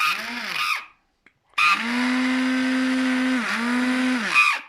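A 200 W blender running on a VOLT 1000VA UPS whirs loudly in two bursts separated by a brief pause, its steady high-pitched whine dipping slightly before winding down.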